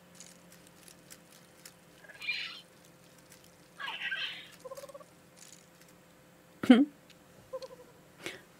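An owl in the video game Syberia 3 hoots a few brief times among sparse game sounds and a faint steady hum, with a sharper cry partway through.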